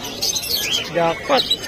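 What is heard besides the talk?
African lovebirds at a pet market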